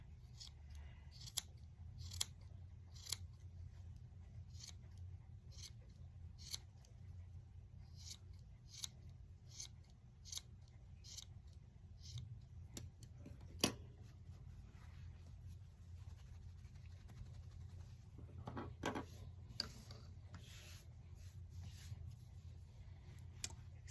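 Scissors snip repeatedly at a fluffy yarn pom pom, a steady series of quiet, crisp close-up cuts spaced about a second apart over low room hum.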